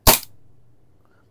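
A single sharp crack from an airsoft rifle fires once near the start, loud and close, then decays quickly into near silence.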